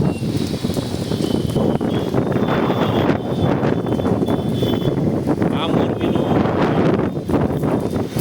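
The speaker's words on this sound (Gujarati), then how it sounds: "પવન જોરદાર છે" Strong wind buffeting the microphone in a constant roaring rumble during light rain in Morbi, with a person speaking briefly underneath.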